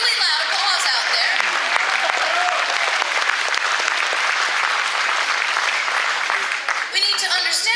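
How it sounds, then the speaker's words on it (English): An audience at a town meeting in John Day, Oregon breaks into loud, sustained applause, a dense, even patter of many hands that fades slightly near the end. "that should have been a really loud applause out there"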